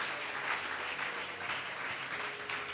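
A church congregation applauds steadily, a dense even wash of many hands clapping throughout, with no speech over it.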